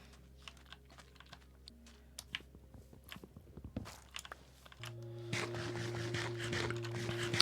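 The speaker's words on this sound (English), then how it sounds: "eating the watermelon" Crunchy biting and chewing sounds from eating watermelon in the Minecraft video game, a run of quick clicky bites over a soft game background that swells louder with steady ambient tones in the second half.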